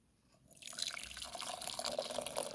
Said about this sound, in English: the Soursop tea is fresh off of the fire, so I was going to pour it out now